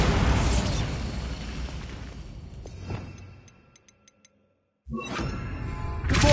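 A Bombarda spell in a Hogwarts video game goes off as a loud, broad blast that rumbles and decays into a few faint clicks and near silence, then another heavy burst erupts at the end.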